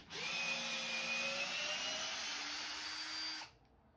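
A battery power drill with a bit whines steadily at high speed while backing a bolt out of a wooden stud frame for a vocal booth, holding a sustained pitch for a few seconds before stopping abruptly.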